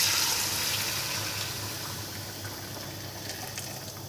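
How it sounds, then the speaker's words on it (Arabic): Hot water pours steadily from close by onto browned meat in a pot, a continuous rushing gush that eases slightly over a few seconds, with no voices. "فانا هحط عليها بقى ميه سخنه"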